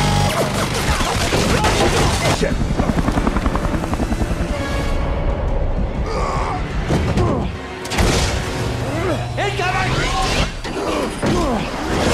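Loud, dense mechanical roar with a pulsing rotor chop, overlaid by bursts and thuds of action noise, dramatic and continuous throughout.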